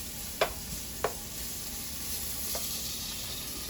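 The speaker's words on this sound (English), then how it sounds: "She's getting her bacon cooked." Bacon sautés in a pan for German sauerkraut, a soft, steady sizzle with a few sharp pops and utensil scrapes close by.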